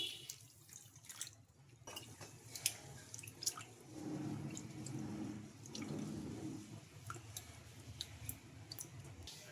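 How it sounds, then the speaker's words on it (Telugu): Water sloshes and drips in a bowl as idli rava is rinsed, with scattered clicks and splashes and a swirling wash in the middle. "ఈ ఇడ్లీ రవ్వను కూడా రెండు సార్లు శుభ్రంగా వాష్ చేసుకుందాం వాటర్ వేసుకొని"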